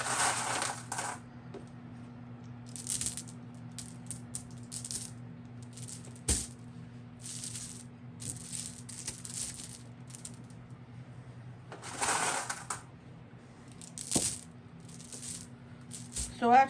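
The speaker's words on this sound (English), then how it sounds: "I'm making a circle of marbles around the stub down there" Glass marbles set down one by one in a circle around a stub, giving repeated sharp clicks and small rattling bursts over a quiet background hum.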